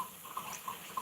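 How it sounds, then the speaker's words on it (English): Water added to a pot of Nigerian egusi soup with palm oil, a close, continuous running trickle with small splashes and drip-like spikes recurring through the short stretch, with no voices. "So I'm just going to add in some water"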